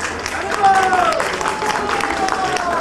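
At a Sri Krishna Janmashtami celebration in 2011, an audience claps as a band is invited onstage, a loud, sustained patter of applause with a voice talking over it.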